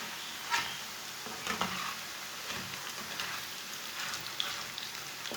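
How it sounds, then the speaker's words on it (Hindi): Banana chips frying in hot oil, a close, continuous crackling sizzle with small pops and occasional stirring or scraping sounds. "इसे 2 मिनट तक फ्राई होने देंगे, बाद में इसे उल्टाएंगे।"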